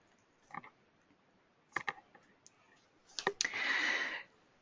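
A few separate computer mouse clicks, quiet and close, spaced out over several seconds, followed by a brief burst of louder clicking and rustle near the end, with no talking.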